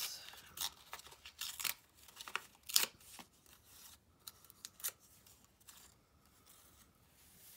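Scissors make a series of crisp, close snips while trimming a long piece of material, with irregular cuts and some rustling in between and no talking.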